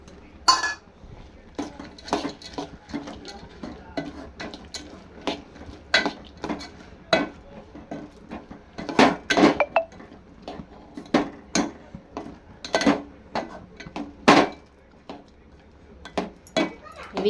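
A spoon stirs roasted lentils in a pan for laddus, giving a steady run of close metallic clinks and scrapes in an uneven rhythm across the whole stretch.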